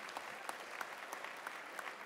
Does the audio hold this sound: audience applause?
yes